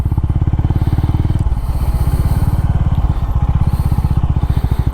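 Honda CB 350RS 2023 motorcycle engine thumping steadily up close during a slow U-turn, a loud continuous low pulsing idle-to-low-rev rumble with a slight dip in rhythm partway through.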